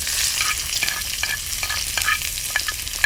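Onion, green chilli, crushed ginger and garlic frying in coconut oil with spices and curry leaves, a dense steady sizzle broken by frequent scraping stirs, near and fairly loud.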